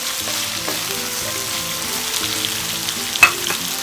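Food for jamón paella sizzles and crackles steadily in hot oil while being stirred, with scraping and a sharp clink near the end.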